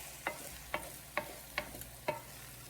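A spoon scrapes and stirs jollof rice with burnt bits through a pot, five or six soft rhythmic scraping strokes at an even pace, fairly quiet and close, with no talking.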